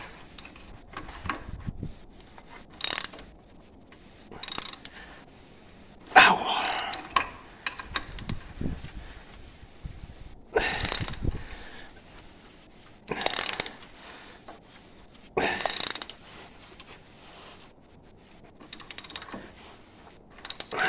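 A socket ratchet works a rusty bolt on an FJ Cruiser axle, giving short bursts of rapid metallic clicking that repeat every couple of seconds, with quiet pauses between strokes and no talking.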